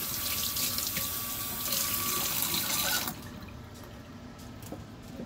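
Water from a sink tap splashes steadily while cleaned bowfin fish is rinsed, then cuts off about halfway through, leaving a quieter drippy, trickling tail.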